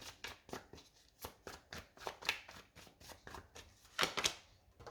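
Tarot cards being shuffled while switching decks, a quiet, close series of rhythmic riffling bursts with brief pauses, a couple louder near the end.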